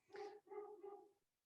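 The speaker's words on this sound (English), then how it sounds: "you can hear my dog barking in the background." A dog barks three times in quick succession in a home, faint and somewhat distant in the background, then falls quiet.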